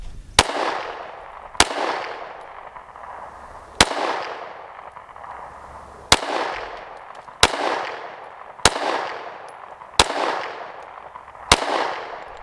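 A PSA Dagger pistol fires about eight loud, sharp shots spaced roughly a second or two apart, each crack followed by a short ringing echo tail. No voices.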